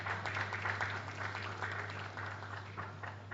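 A seated audience claps at a book presentation panel, giving an even, continuous patter of applause that holds steady for a few seconds with no voices over it.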